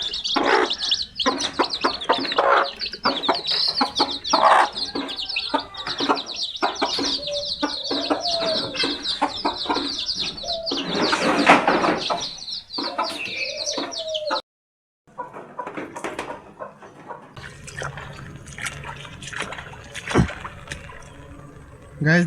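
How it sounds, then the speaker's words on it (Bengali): Young chicks just let out of a cage on a rainy-day farm peep and cluck continuously and loudly at close range, a dense chorus of chirps that briefly cuts out before resuming. "আমাদের সকাল থেকে এই মুরগির বাচ্চাগুলো এইভাবে খাঁচার মধ্যে বন্দি"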